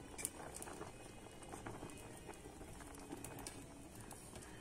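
Water at a rolling boil with water chestnut puli pitha dumplings in the pot, a soft continuous bubbling patter with small pops, faint and close, no talking.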